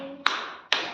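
Two sharp hand claps about half a second apart, close and crisp, each with a brief ringing tail in a quiet room.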